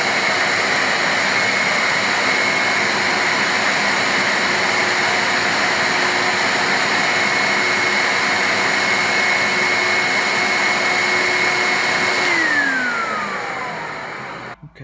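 A Henry vacuum cleaner motor runs loud and steady with a constant whine, then winds down as the power is cut near the end.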